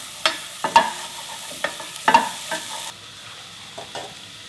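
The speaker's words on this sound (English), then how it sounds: "Just stir a couple of minutes until this onion is a little bit translucent." Garlic and onion fry in about two teaspoons of sesame oil for Korean tofu and clam soup. A light sizzle runs underneath while a few quick, close scraping stirs clatter against the pot.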